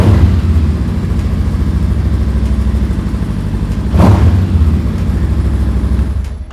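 A used 2018 big motorcycle's engine, on sale at a used-bike dealer, idles with a steady low rumble that rises in a sharp blip of revs near the end before settling again, close and loud with no talk.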